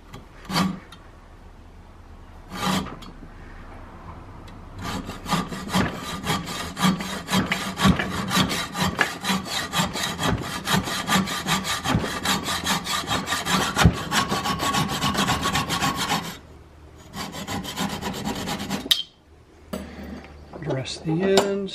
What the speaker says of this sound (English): Dull hacksaw.